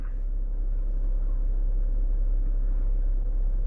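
Steady low engine rumble heard from inside a car's cabin, continuous and fairly loud throughout, with no voices over it.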